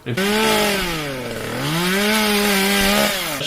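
A loud, whining angle grinder in a film scene runs continuously, its pitch dipping and rising as it bites into material, close and dominant.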